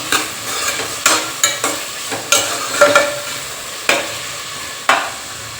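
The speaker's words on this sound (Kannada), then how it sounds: "ಒಂದು ಕ್ಯಾರೆಟ್ ಅಷ್ಟೇ ಚೆಂದಾಗಿ ಮಿಕ್ಸ್ ಮಾಡ್ತೀನಿ" Carrot being stirred in a frying pan while cooking a festival meal, with irregular scraping and clacking strokes about once a second over a soft background sizzle, close and moderately loud, no voices.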